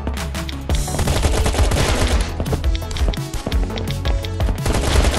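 Rapid automatic gunfire in a raid-and-defense online survival game, dense bursts of loud shots rattling almost continuously over a steady low rumble, with no talking.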